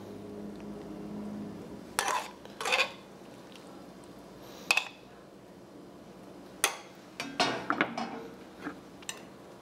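A sherry cream sauce is mixed with a utensil, giving quiet, intermittent clinks and short scraping bursts against a dish, separated by near-silent pauses.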